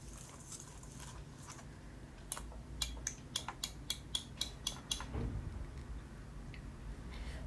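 A utensil gradually mixes cake flour into chocolate cupcake batter in a bowl, making a quiet background scrape and then a run of about ten evenly spaced, sharp clicks and taps against the bowl before settling down again.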